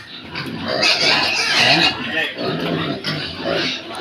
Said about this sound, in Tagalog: Nakikita niyo idol yung kung gaano kalaki yung baboy